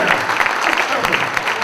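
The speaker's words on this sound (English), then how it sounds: "Let's give them a warm round of applause" A dinner crowd applauds elected officials with dense, warm clapping that stays loud and even throughout, with a murmur of voices mixed in.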